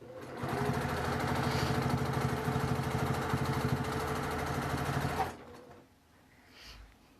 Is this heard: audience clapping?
no